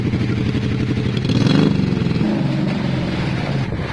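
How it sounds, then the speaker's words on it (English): A motorcycle runs on a flooded, wet road during record heavy rain in Sharjah, UAE, in January 2020. Its engine gives a close, steady putter over the rushing wash of water and rain, with no talking. "I asked the motorcycle to drop us."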